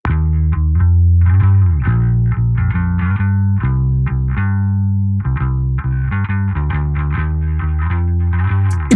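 Bass guitar run through the Virelia plugin by Mixland with chorus effect, playing a steady line of notes, smooth and wide with little low rumble, loud and alone.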